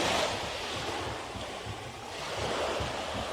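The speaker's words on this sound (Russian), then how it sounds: "И послушайте, какой шум волн." Gentle sea waves break on a coarse sand beach at Cozy Beach, Pratamnak, Pattaya, swelling and receding in soft surges with light wind buffeting the microphone, no voices heard.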